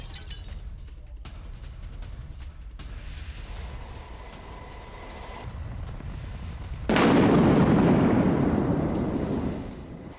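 A boat blows up in a US military strike in the Pacific. A steady broadband rumble builds, then a sudden loud roaring burst breaks in and holds for a few seconds before fading. No talk is heard.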